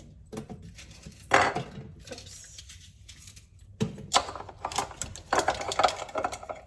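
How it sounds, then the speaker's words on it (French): Three onions being chopped at high speed in a food processor, a fast rattling, clattering whir with louder bursts as the blades catch the pieces. "pour commencer, je vais hacher 3 oignons"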